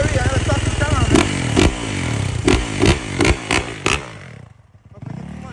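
A cheap scooter engine runs loudly close by, revving repeatedly in sharp bursts before the throttle drops off and it settles to idle.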